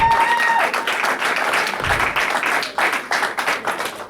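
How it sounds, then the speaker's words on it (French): A church congregation applauding and cheering the Lord, heard as loud, sustained clapping from a crowd that grows choppier and more rhythmic toward the end, with a few voices mixed in. "Tu peux acclamer le Seigneur si tu veux acclamer le Seigneur"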